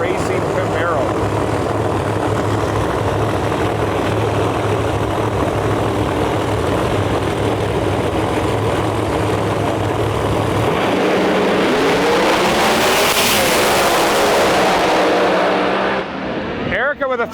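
Pro Mod drag racing cars, including a screw-blower car and Erica Ender's Elite Motorsports Camaro, roar loudly and continuously at a World Series of Pro Mod qualifying run, the pitch rising then sweeping away near the end.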